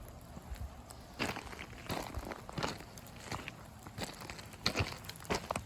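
Footsteps crunch over a dry gravel river bed at a steady walking pace, faint and a little distant, with soft scraping between the steps.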